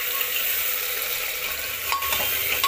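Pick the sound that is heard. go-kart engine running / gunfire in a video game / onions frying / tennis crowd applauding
onions frying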